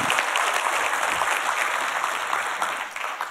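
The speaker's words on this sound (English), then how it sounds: "let's just give the Lord a big hand clap offering of thanksgiving for what he's doing here" A church congregation gives a sustained round of hand-clapping applause, dense and even throughout before tapering slightly at the end, with no talk over it.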